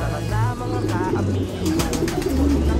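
A white pigeon with a black-marked beak coos in low, repeated throaty phrases nearby, mixed with other birds and someone speaking over the calls.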